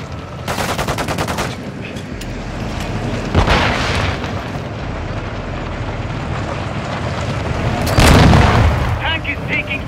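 Heavy explosions and gunfire slam into a tank during a Call of Duty Modern Warfare 2 (2022) match, with booming blasts near the start, middle and end over a constant roar of battle noise.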